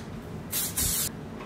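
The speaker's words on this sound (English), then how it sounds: "So I'm using my heat protectant, spraying that." Two quick hissing bursts of heat protectant spray onto hair, close by, with a brief pause between them over quiet room tone.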